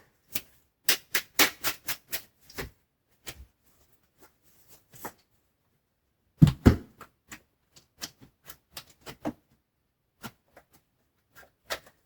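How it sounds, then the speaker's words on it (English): Tarot cards are shuffled by hand in quiet bursts: a quick run of crisp riffling clicks, a pause, then another flurry and scattered single taps, close and dry. "These cards don't want to shuffle, and I also added shuffling it like this."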